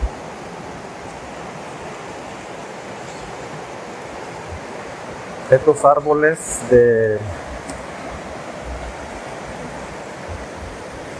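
The flooded Tecolostote river rushes past in a steady, loud broadband roar of water, with a brief spoken phrase breaking in midway before the torrent continues alone.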